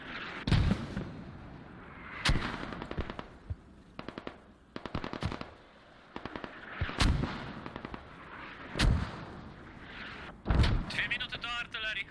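Mortar rounds firing in the video game Squad on the Kokan map, several deep booming thumps spaced apart amid scattered rifle bursts in the distance, with commentary talk running over them.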